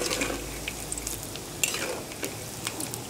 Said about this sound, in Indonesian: Kita goreng dia bagi garing sikit.